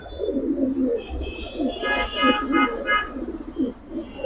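Giribaz pigeons in a loft coo and rustle nearby, with repeated soft cooing calls and a few brighter chirps layered over each other.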